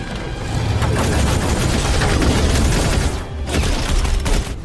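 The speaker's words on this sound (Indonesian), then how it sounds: "Kelly dan Rhodey terlibat aksi tembak-tembakan dengan para alien." Gunfire from a film shootout between two fighters and hostile aliens: dense, continuous volleys of shots and booms, loud and close, with a short lull near the end before the firing resumes.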